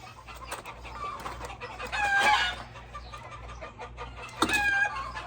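Chickens cluck excitedly nearby, rising into louder squawking calls twice over a steady low hum in the background.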